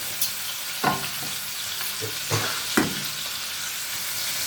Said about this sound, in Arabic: اقلب بس كله